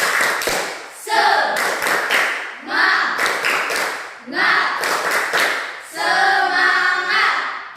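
Classroom students do a rhythmic spirit clap in four loud bursts of rapid clapping, each swelling and fading, with voices chanting along in the last burst.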